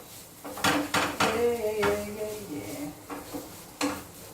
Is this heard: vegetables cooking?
yes